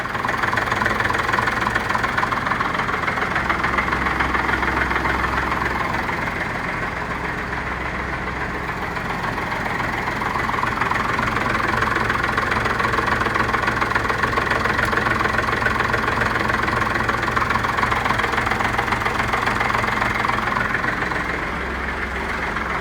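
A first-generation Cummins diesel engine in a truck idles steadily and loudly nearby, a constant rumbling drone with a slight knocking texture throughout.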